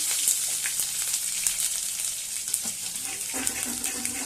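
Whole cumin, a little ginger and two garlic cloves sizzle in hot oil in a pan. The sizzle is close, loud and steady, with sharp crackles throughout and no talking.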